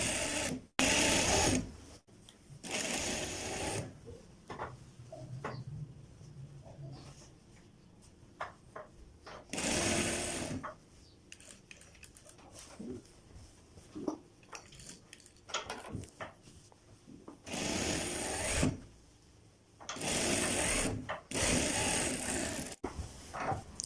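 A sewing machine stitches a high-neck kurta in short, sharp bursts of whirring, a few seconds each and spaced apart, with quiet handling clicks and rustles in the gaps between runs.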